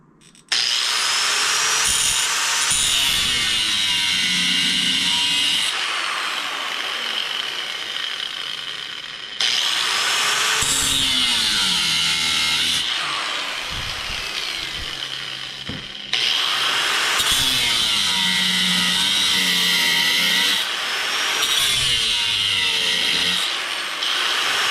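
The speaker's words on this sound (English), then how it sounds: "So I'm just going to cut down approximately a 1/2 inch." A power saw cuts wood for a rocket stove build in three long, loud passes separated by brief pauses, with no talking.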